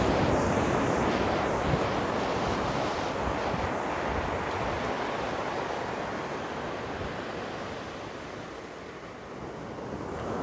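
Surf at Tunggul Buto beach rolls in as a broad, continuous wash of waves with wind buffeting the microphone, loud and close, gradually easing toward the end, with no talking.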